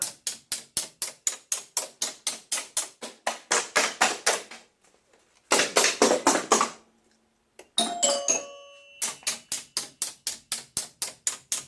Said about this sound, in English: if we turn on the test program now, we should be getting chimes along with everything else